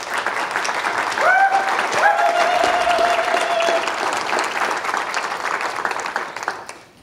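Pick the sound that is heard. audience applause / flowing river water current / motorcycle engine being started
audience applause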